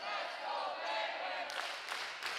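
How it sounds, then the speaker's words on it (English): A high-school senior boys' basketball crowd cheering and shouting in a gym, a steady roar of voices with brief sharper bursts near the end. "The crowd is really urging their players on, trying to get them into this."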